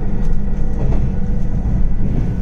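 Limited express train Tsurugi running on a single-track line near Awa-Yamakawa, a loud steady low rumble of wheels and engine inside the car with faint rhythmic clicks of the rails.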